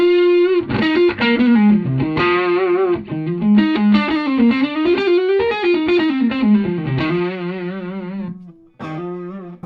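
Driven electric guitar running through two amps at once, thick distorted chords and melodic runs played steadily and up close, with a short gap near the end before a last chord rings out.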